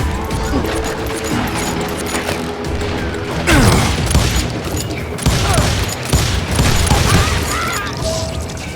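Gunfire in the Call of Juarez video game, a dense fusillade of shots and booming impacts. It runs continuously for the whole stretch and swells louder in bursts mixed with crashes.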